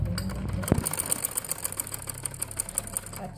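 A sewing machine runs a fast, even rattle of stitches while sewing the yoke of a peplum umbrella frock, starting with a brief thump and continuing steadily close by.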